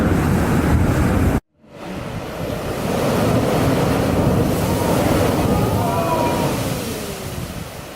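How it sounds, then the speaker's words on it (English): Ocean waves surge through a narrow rocky channel and strike a wall at a blowhole, a loud, continuous roaring wash with wind buffeting the microphone and a brief dropout near the start. "The water, the wavy thing, comes through a small, narrow valley, and then it hits the wall here."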